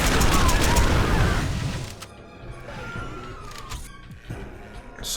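Video game gunfire from Brutal Doom II as enemies are shot, with a dense burst of loud rapid shots and crashes at first, then scattered lighter shots and effects over a quieter game background.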